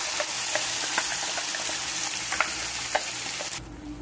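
Ground masala paste frying in oil in a pan for an aloo capsicum curry, a steady close sizzle with a few crackling pops, then a sudden duller shift near the end as more goes in.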